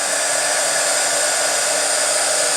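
A heat embossing tool blows hot air in a loud, steady, close whoosh with no pauses or voices.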